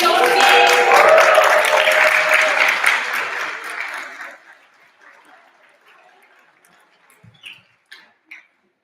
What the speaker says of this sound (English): Can I have a round of applause for the OC?